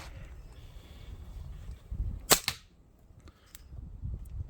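Springfield Armory XDM 3.8 Compact CO2 BB pistol firing 4.5mm BBs, a sharp snappy shot near the middle over faint background noise, followed by a few softer clicks.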